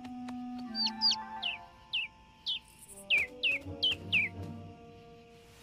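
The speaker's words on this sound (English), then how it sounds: "Oh, look, a baby bird." A small bird chirps in a series of short, high, downward-sliding tweets, about a dozen spaced calls, close and clear against a quiet background.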